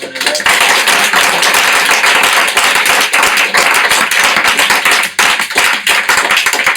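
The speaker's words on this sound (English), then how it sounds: "Let's give a big round of applause to Aina." Audience claps at a Bhakti School gathering in New York, a dense, steady round of applause filling the whole stretch at close range, with no speech over it.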